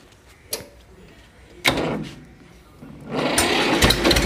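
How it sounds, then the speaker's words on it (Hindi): An Escort 335 tractor engine idles and revs with a mechanical, sewing-machine-like chatter. It starts as faint ticking, swells at about 1.7 seconds, and builds to a louder, steady roar near the end, with no voices over it. "तो एक बार आवाज़ और सुनवाओ ट्रैक्टर की भाइयों"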